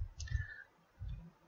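A computer mouse clicks twice on an open button in Blender, two soft, close taps about a second apart in a quiet room.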